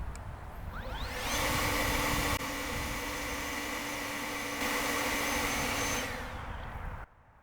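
An EGO cordless leaf blower runs on high speed in normal mode, a steady loud rushing whoosh of air that surges slightly, holds, then winds down and stops.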